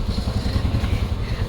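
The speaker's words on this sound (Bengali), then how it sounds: "এরা চলে এলো বাইক নিয়ে" Motorcycles arrive on a foggy mountain road near Lachen in North Sikkim, a steady loud low engine rumble close by with a chugging rhythm.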